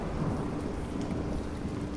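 Steady rumbling thunder with rain noise from the Bendy and the Dark Revival video game, a continuous dense roll that holds at moderate loudness for the whole stretch without any voices.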